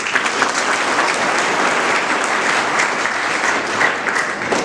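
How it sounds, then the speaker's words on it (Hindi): Steady applause from a school audience at a Class IX orientation programme, a dense, even clatter of many hands clapping continuously throughout without pause. "मैं ऐसे अभिभावकों के लिए एक बार सबसे बोलूँगा कि ताली बजाएं"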